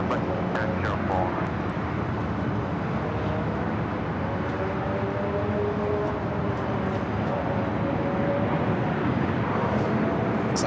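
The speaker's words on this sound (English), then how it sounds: "It's like Hawaiian Flight 10, the A330 coming in from Honolulu, taking the route to the south." A Hawaiian Airlines A330 airliner arriving at LAX in Los Angeles. A steady, loud engine roar holds for the whole stretch, heard from a distance, with a faint background voice at times.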